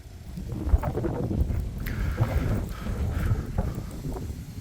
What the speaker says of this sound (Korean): 이게 바람이 불어서 좀 시끄럽긴 한데